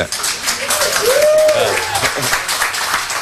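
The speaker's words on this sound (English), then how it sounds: "A special round of applause for Ruby." An indoor audience applauds at a panel debate event, a steady wash of clapping from a crowd under and around a speaker's voice.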